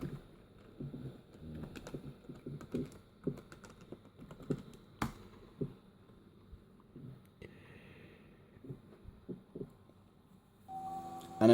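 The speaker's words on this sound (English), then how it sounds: "All I need to do now is type my password into the domain." Keys tapped on a Toshiba Tecra 500CDT laptop keyboard while a password is entered, a loose, uneven run of close, quiet clicks with brief pauses, ending in a louder burst.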